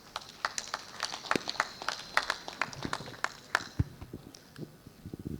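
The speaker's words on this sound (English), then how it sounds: "A big round of applause for our Chancellor, the 5th Chancellor of Mbarara University of Science and Technology." Scattered applause from an audience at a university graduation ceremony, a chancellor being honored; sharp uneven claps ring out close by, thinning out toward the end.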